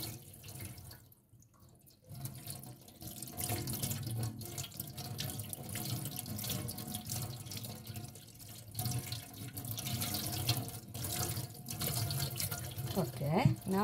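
A water tap runs steadily into a sink while a Blythe doll's hair is washed, a continuous hiss and splash of flowing water with soft shifts as the stream hits hair and basin, close and fairly loud.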